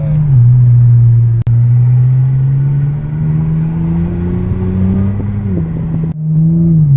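A 2020 Toyota Supra's engine drones steadily from inside the cabin while being driven, holding a low, even hum with a gentle rise in pitch, one brief dropout, then settling again.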